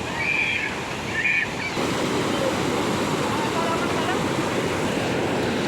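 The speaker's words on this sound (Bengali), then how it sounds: "ঝর্ণার আওয়াজটা দারুণ লাগছে।" A waterfall at a scenic hill spot roars as a steady, broad rush of falling water, continuous and fairly loud throughout, with a brief higher whistle-like tone near the start.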